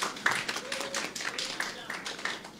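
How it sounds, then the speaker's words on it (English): Audience clapping at a church teaching session on relationships, a scattered run of hand claps under ongoing room chatter, fairly faint and uneven across a few seconds. "Clap for Adam."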